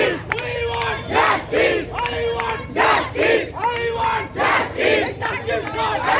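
A protest march crowd of citizens in Belgharia Prafullanagar chants slogans demanding justice in rhythmic, repeated phrases, with loud surging waves of many voices.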